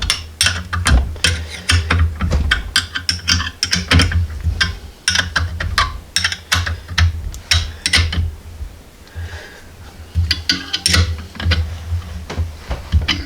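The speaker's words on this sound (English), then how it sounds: "Take a 1/2 inch wrench and I tighten this down." A brake line flaring tool being tightened down with a 1/2 inch wrench, producing a busy run of sharp metallic clicks and ratcheting ticks with brief pauses, close and fairly loud.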